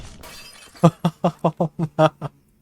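Objects shattering as they break in the Viscera video game: a run of eight sharp, evenly spaced glassy crashes over about a second and a half, loud and close, with no talk over them.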